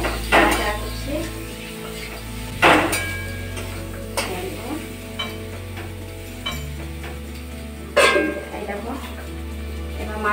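Fried potatoes with turmeric being stirred in a pan, with a few sharp metallic clanks of the spoon against the pan spread across the stretch. Soft sizzling continues between them and a voice is heard at times.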